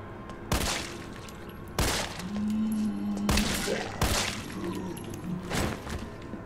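Gunfire against zombies in Resident Evil 3 Remake: five sharp, loud shots spaced about a second apart, each with a quick decay, over a low rumbling game background.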